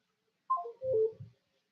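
Short descending electronic telephone tones as a caller drops off a town board conference call, a quick falling chime then two low blips, alone in silence.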